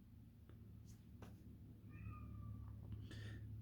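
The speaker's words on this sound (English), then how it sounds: "Marbles is meowing for me because she's so angry" A cat meows a few times, short mid-pitched cries over a low steady background hum, fairly quiet and close.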